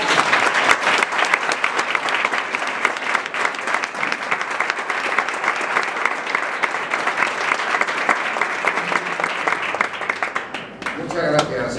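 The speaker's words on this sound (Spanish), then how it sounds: "Pues un aplauso para una leyenda viviente de la NASA." Dense, sustained audience applause fills a lecture hall in Valdepeñas after a NASA guest is introduced at a talk on the space race and the Moon landing, steady clapping throughout, then tapering as a voice begins near the end.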